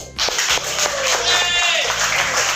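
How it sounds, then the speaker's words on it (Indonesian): Clapping from an audience at a microteaching class session, a steady burst of applause lasting a couple of seconds, moderately loud and close. "Oke, kita beri tepuk tangan."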